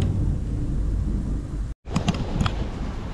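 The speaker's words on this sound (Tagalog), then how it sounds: "Grabe ng ulan ngayon." Heavy rain pouring steadily in a dense roar in Oman, with a brief dropout followed by sharper pattering hits.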